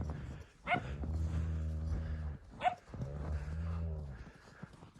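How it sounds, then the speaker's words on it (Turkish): Dogs roaming freely outdoors give long whimpering, whining cries broken by a couple of short sharp barks, close and fairly loud with no talk over them. "Köpeklerim böyle özgür özgür geziyorlar."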